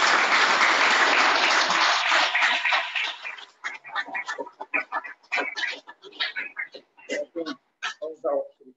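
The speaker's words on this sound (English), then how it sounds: "give him a clap" School assembly applauding a pupil receiving an award, dense clapping for a few seconds that thins into scattered claps and cheers, with children's voices mixed in.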